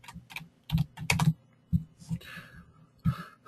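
Keystrokes on a computer keyboard, typed into a web search field, come in short irregular bursts of several clicks with brief pauses between them, close and fairly quiet, with no voice.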